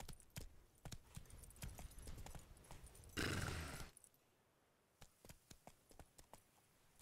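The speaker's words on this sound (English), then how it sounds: "Run, Roach." A horse's hooves strike in quick, irregular clip-clop beats in The Witcher 3 video game, with a brief loud rushing burst in the middle and sparser, fainter hoofbeats afterwards.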